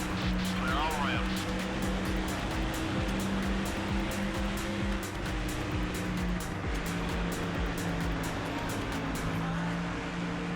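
A stock car engine races loudly and continuously in the NASCAR Thunder game, a sustained whining drone with someone talking over it.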